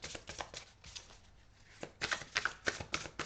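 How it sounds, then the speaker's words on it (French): Tarot cards being shuffled by hand in short riffling bursts, quiet and close, with a brief lull before a denser run of crisp flutters. "je demande 2 cartes de tarot pour avoir un complément d'infos sur ce tirage"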